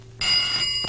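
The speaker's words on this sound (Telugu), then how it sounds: "ఫోన్ మోగుతోంది కదరా" A telephone ringing, a bright shrill electronic bell tone starting abruptly and sounding steadily at close range, briefly dipping before resuming, with no talk over it.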